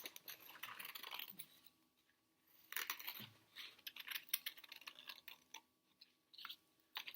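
Scissors cutting out a paper shape for a craft, a quiet sequence of short crisp snips and paper rustles in irregular bursts, close by with no talking.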